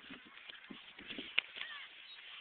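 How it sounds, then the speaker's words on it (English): A flock of seagulls cries out in overlapping, honking calls, a dense chorus of squawks with one sharp louder call in the middle. "Look at all these seagulls."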